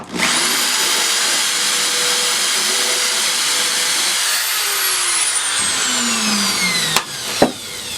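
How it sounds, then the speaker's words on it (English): A power tool with a sanding bit whines steadily up close while enlarging holes for irrigation piping in a homemade vertical garden, then winds down with a falling pitch and two sharp knocks at the end. "to actually sand and make the holes just that little bit bigger"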